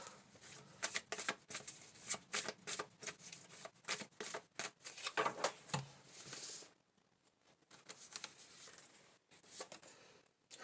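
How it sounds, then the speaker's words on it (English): Tarot cards are shuffled in quick, quiet riffling bursts and soft slaps up close for several seconds, then give way to a few lighter taps. "I'm going to do a quick little shuffle, mix it up."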